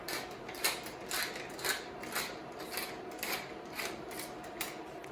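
Cracked black pepper ground from a pepper mill over mushroom soup, a run of about ten quick gritty crunching bursts in steady rhythm, close and clear with no talking.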